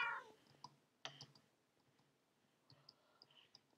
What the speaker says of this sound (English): make a meowing sound